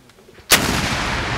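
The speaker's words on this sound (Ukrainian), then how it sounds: "Він наводиться і по команді постріл робить вогонь." A single loud, sharp blast from a mounted anti-tank grenade launcher fired by soldiers in a field drill, breaking a quiet lull and trailing into a long rumbling roar.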